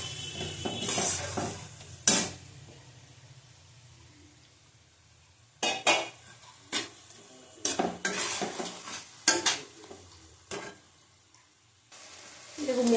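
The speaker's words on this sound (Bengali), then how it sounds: "কাশ্মীরি লঙ্কার গুঁড়ো দিলাম 1 চামচ। ভালো করে কষিয়ে নেব।" A spice paste with Kashmiri chili powder is stirred and fried in a pan for fish curry, with a soft continuous sizzle under repeated scraping and clanking of a spoon against metal.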